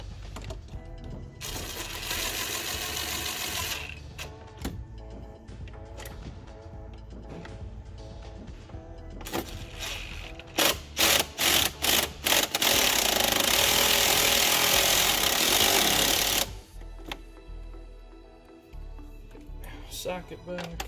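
A power tool snugs up bolts on a Kenworth blower motor, running in loud sustained bursts with a stretch of short rapid pulses in the middle, close by with shop noise around.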